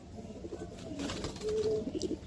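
Pigeons in a home loft of fancy breeds, including a male bird: near, soft coos at first, building to a rhythmic run of repeated coos toward the end, with no talking.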